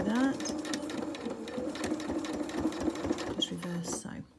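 A sewing machine runs a reverse stitch on suit trousers, a fast steady mechanical whirr with rapid needle clatter that slows and stops near the end.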